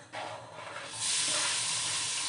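Chopped onion dropped into a hot pot for mushroom soup, with a loud steady sizzle that swells sharply after a second and holds without pause.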